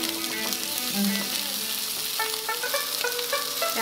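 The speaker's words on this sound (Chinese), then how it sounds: "有热了，把姜片放进去爆香。" Ginger slices sizzle and crackle steadily in hot oil in a wok, a dense close frying hiss with faint clinks of utensils, and no one speaks.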